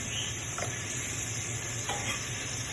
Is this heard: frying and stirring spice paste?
yes